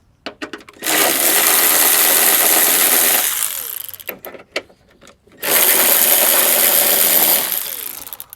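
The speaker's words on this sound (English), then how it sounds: "we're just going to take a 10 millimeter and we're going to start removing these bolts" Power tool on a GM OBS truck's Vortec V8 intake manifold, using a 10 mm socket on the bolts: two long, loud whirring bursts with clicks and short clatters between them, no talk.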